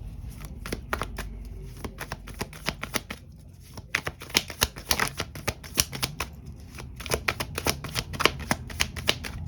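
A deck of cards being shuffled: bursts of rapid crisp riffling flutters and snaps, close and fairly quiet, repeating in several runs with short pauses between.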